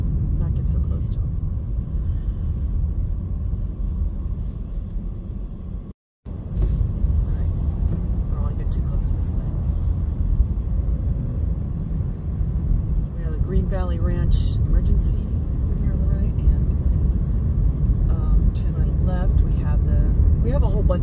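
Heavy traffic rumble from a cement truck driving close by on a Henderson, Nevada parkway, heard from inside a moving car as a steady, loud engine and road drone that cuts out for a moment partway through.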